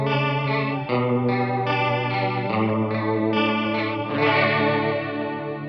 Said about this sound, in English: then you obviously dial the mix back, and you've got chorus